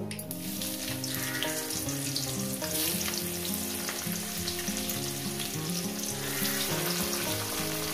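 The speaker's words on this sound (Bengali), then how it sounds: "পেঁয়াজটাকে দিয়ে আমি 2 মিনিট ভেজে নেব।" Chopped onion frying in oil with a pinch of black cumin, the start of a spicy parshe fish curry, gives a steady, close sizzle that runs throughout with tonal background music underneath.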